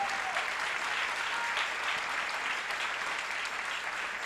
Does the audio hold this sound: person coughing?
no